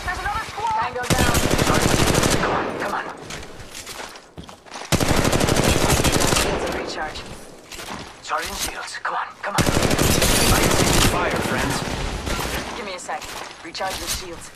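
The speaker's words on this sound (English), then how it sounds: "Opening fire on the enemy" Rapid automatic gunfire from the mobile battle royale game Apex Legends Mobile, loud and close, in three long sustained bursts separated by brief pauses.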